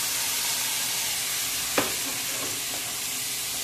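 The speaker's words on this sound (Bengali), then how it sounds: "এবার যে ভেজানো চালটা ছিল সেটা কিন্তু এর মধ্যে এবার দিয়ে দেবো পুরোটা" Soaked rice goes into a hot pan where rosemary and garlic have been fried, with a low, steady sizzle throughout and one brief sharp clatter midway as it drops in.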